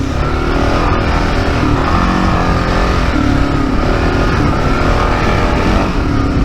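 A 2022 Kawasaki KLR 650 motorcycle rides on sandy dirt with a loud, steady engine drone, wind rush and tire roar filling the whole stretch without a break.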